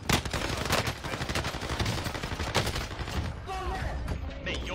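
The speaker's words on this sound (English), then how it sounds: "Your bullets are going through the wall and hitting me." Dense, rapid automatic gunfire from a team shooter video game, bursts of shots and explosive pops packed together throughout, with faint voices underneath near the end.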